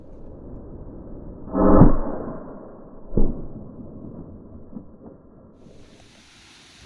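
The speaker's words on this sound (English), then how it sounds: "I apologize for the wind noise today." Low rumbling gusts of wind buffet the microphone outdoors at a shooting range, with a couple of heavier blasts early on, then a steadier, quieter breeze.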